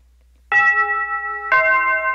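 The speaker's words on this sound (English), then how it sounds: "Loud bell is loud." A bell chime in the visual novel game Shuffle!, two loud ringing strikes a second apart, each sustaining bright tonal overtones, alone without talk.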